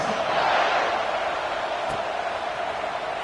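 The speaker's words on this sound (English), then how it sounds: "this crowd is buzzing after that last score" Steady stadium crowd roar from a college football video game, a dense, even wash of cheering noise just after a touchdown, continuous and fairly loud with no clear voices.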